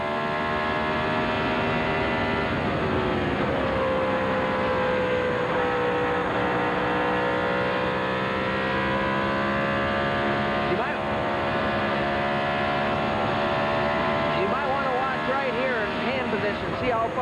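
IndyCar race cars at the Indy 200 at Walt Disney World, 1996–97 IRL season, running in heavy traffic, with several engines whining at steady high pitch and sweeping as cars pass, under continuous commentary.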